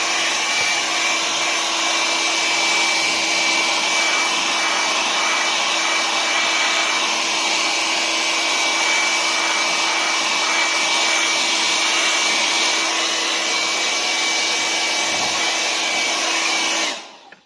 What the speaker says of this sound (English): I'm just going to get my hairdryer on it again, give it a blast